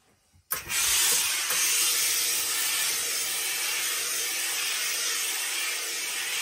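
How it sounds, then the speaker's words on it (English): Hat steamer hissing steadily into the inside of a hat to freshen it, a close, loud broadband jet that starts abruptly after a brief quiet moment and holds continuously to the end. "on the inside, I'm going to put some steam just to freshen it up really"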